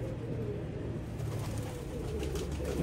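A pigeon coos in a soft, low, continuous call, close and steady against a constant background hum, with no voices.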